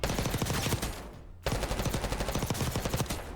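A C9 submachine gun fires in long, rapid automatic bursts in Warzone, loud and close, with a brief pause between two sustained strings of shots.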